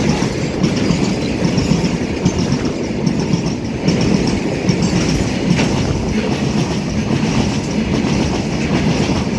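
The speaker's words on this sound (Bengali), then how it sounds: "ট্যাঙ্কিওয়ালা ট্রেন," A long diesel freight train of petrol tanker wagons rolls past close by, a steady, loud rumble of wheels with faint clickety-clack running throughout, no voices.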